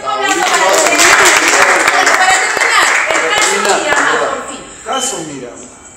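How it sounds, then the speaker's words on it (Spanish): Studio applause on a Spanish-language football talk show, loud steady clapping that drops off near the end as a voice cuts in briefly. "Un aplauso para ti."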